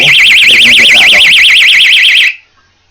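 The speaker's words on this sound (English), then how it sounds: "But if they try and open your door, they're going to get that alarm." A small battery-powered personal door alarm shrieks loudly and continuously for about two seconds in a warbling, wavering tone, then cuts off abruptly into silence.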